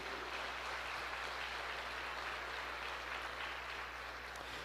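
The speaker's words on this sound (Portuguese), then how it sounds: "Você pode aplaudir ao Senhor, querido." A church congregation claps in a faint, distant, continuous wash lasting several seconds, set against a steady low hum in the room, with no speech over it.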